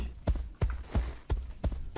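Footsteps in the video game Escape from Duckov, six evenly spaced dull thuds at a steady walking pace, fairly close, with no voices.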